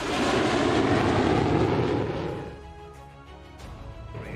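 A remotely piloted drone aircraft flies past, its loud engine drone strong at first and then fading and thinning over the last couple of seconds, with no talking.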